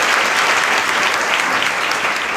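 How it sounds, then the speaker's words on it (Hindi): Loud, dense clapping from a congregation at a Bible study gathering, continuous and close for the whole moment. "एक अच्छी ताली बजा दे वापस"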